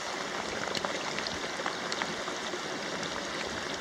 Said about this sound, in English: there's a little mini waterfall